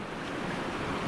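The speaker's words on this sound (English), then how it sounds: "So here's the fast water." Fast-moving water of the Lochsa River rushes steadily and loudly, a continuous broadband roar with no talk.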